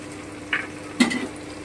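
Sesame and poppy seed paste fries briefly in a pan for shukto, heard as a few short, close scraping sizzles over a soft, steady background.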